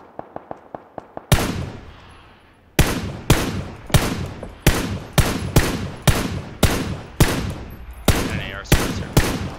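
Video game gunfire: a quick run of light rapid shots, then a sharp loud report followed by a long series of heavy, evenly spaced gunshots, each ringing out and decaying, with no talk.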